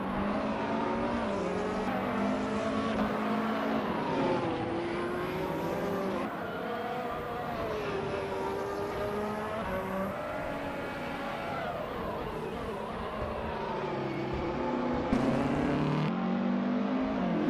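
Engines of racing cars in a video game race, with continuous high revving tones rising and falling through gear shifts as several cars run closely matched, steady and loud throughout.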